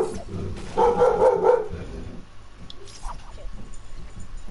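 Several dogs bark in a short burst near a home, louder at first and then fading into quieter background noise.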